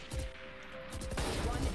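Rapid gunfire from the tactical shooter game Valorant, a steady run of shots filling the clip and growing denser toward the end, heard close and loud with faint talk mixed underneath.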